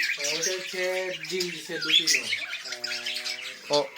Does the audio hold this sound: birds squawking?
yes